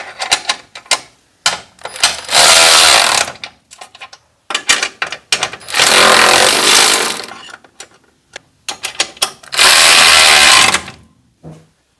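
Ratchet tightening motor mount bolts on a 1995 Ford F150: three long bursts of rapid, loud clicking, separated by shorter clusters of ticks and brief pauses, with a close, metallic sound.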